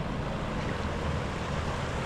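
Clear river water rushing along the Santa Maria river, a dense, continuous wash of flowing water heard close by, with no talking.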